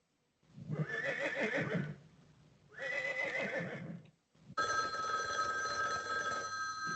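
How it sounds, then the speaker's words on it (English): A horse whinnies twice, loud and close, followed by a telephone bell ringing steadily. "Horse."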